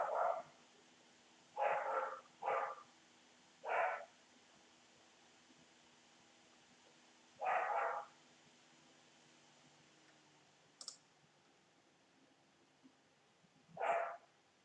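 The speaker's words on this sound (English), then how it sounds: "dog going crazy in the room" A dog barking indoors in a room: a series of sharp, fairly close barks in irregular bursts, some paired, with quiet gaps and a faint background hiss between them.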